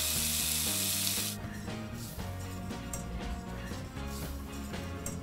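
Hot dark caramel for a chocolate caramel tart hisses loudly as cream pours in, then settles into a softer bubbling sputter under the clink and scrape of a whisk against the pan.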